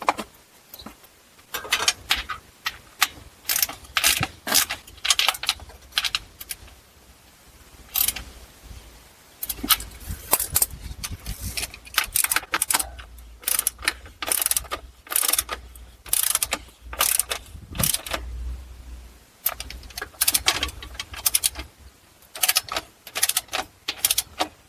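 Torque wrench clicking and ratcheting as transmission pan bolts are tightened on a Dodge Durango with an 8HP70 automatic, close irregular bursts of sharp mechanical clicks with short pauses between them.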